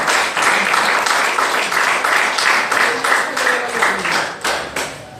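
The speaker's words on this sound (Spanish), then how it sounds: "Denle un aplauso al Señor." A church congregation breaks into steady applause, many hands clapping in a dense, sustained wash that carries on for several seconds before tapering off at the end.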